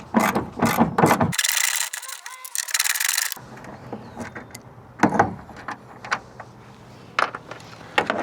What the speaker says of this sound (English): use the 8mm socket to take off these two